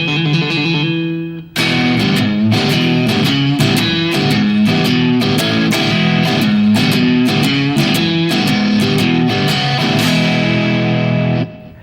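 Overdriven electric guitar through an amp with gain near 4, a mild bluesy distortion; a sustained chord opens, then rhythmic strummed chords with sharp attacks ring steadily and loudly to the end.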